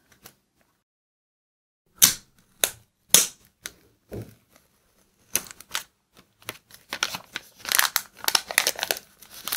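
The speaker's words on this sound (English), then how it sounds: "Let's remove sticker." Sticker peeled off an iPhone 12 Pro Max box: a few sharp separate rips, then a quick run of crackling tearing and crinkling close up, with no talking.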